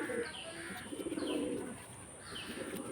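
A female carrier pigeon coos in soft, repeated phrases close by, with faint chirps and a steady background hum.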